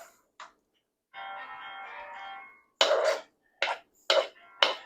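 A phone's text message notification tone sounds briefly in a home kitchen where a meat mixture for a nachos casserole is being prepared, followed by several sharp clattering bursts nearby.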